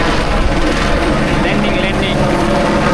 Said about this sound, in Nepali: लाङटाङको हेलिकप्टर